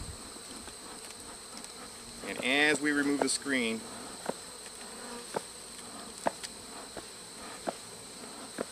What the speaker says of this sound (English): The bees are getting a little excited here.